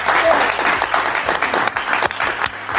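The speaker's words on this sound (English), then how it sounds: "Let's add another clap around." Dense audience applause rings out close by at a live spoken-word event, a continuous burst of many hands clapping that fills the whole moment.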